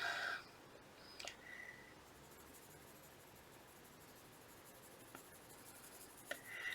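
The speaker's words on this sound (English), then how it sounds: "So I'm barely touching the paper. I'm just putting a really light layer down of this color." Colored pencil lightly shading skin tones on paper, a faint, steady scratchy rub with a few soft taps, heard alone in a quiet room.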